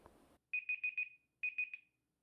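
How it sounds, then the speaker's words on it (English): A Kyocera DuraXV Extreme+ phone timer alarm goes off with two bursts of rapid, clear electronic beeps, four tones then three, loud and close in an otherwise silent room. "And here is what it sounds like when a timer goes off."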